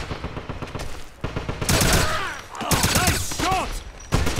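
Gunfire in the Wolfenstein video game: bursts of rapid shots and a firefight over several seconds, with voices shouting amid the shooting.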